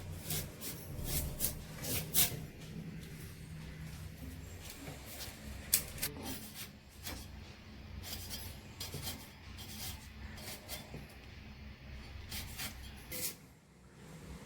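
Knife cutting onions and tomatoes on a board for a spicy peanut chutney, a steady run of close, fairly loud chopping strokes and scrapes with no talking.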